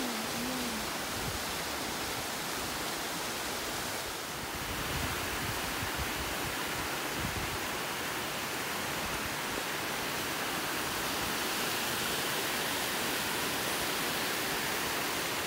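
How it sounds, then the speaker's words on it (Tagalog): Water rushes steadily along a mountain stream, a loud, unbroken broadband roar that barely changes for fifteen seconds, close by, with no one talking. "Diba ang ganda pakinggan yung tubig?"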